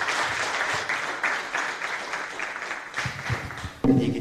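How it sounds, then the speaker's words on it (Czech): Audience applause at a business competition final, broad and steady for most of the clip, fading near the end before a brief loud burst of voice. "Šárka Vávrová z Fluidum, to je váš potlesk"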